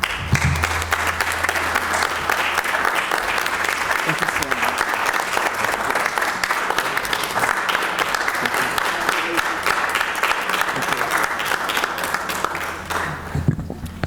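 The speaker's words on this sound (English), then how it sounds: "Let's give our students a round of applause." A school board meeting audience gives a long round of applause for students, dense steady clapping from many hands filling the room for about fourteen seconds and tapering at the end, with a brief thank-you spoken over it.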